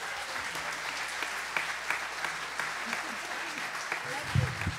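A church congregation applauds to welcome a woman to the stage, steady sustained clapping from a large crowd filling the room, with a brief voice near the end.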